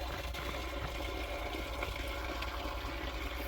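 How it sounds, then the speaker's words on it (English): Spring water where people collect drinking water, a continuous, even rush of flowing water with no voices. "here's the spring that people are getting their drinking water out of."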